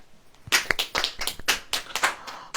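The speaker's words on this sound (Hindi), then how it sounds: "ताली बजाओ।" Audience at a Hindi Christian sermon claps hands in a burst of sharp, irregular claps, fairly close and loud, with no talk over it.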